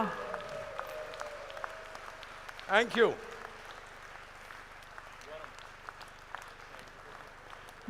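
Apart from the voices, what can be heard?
thunderous round of applause from audience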